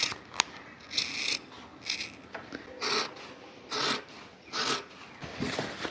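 Scissors cutting fabric for homemade Roman blinds, a run of repeated crisp snipping strokes, close and fairly quiet, alone with no talk.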